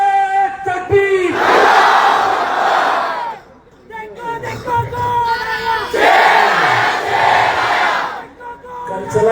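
A large crowd at a political public meeting chants a slogan in loud unison, answering a lead caller in two big call-and-response bursts, with a shouted voice calling out between them.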